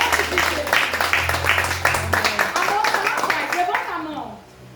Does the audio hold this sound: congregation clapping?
yes